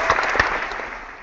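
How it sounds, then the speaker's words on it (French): A short burst of applause from a small group, with brisk clapping that fades quickly. "Fais les applaudissements."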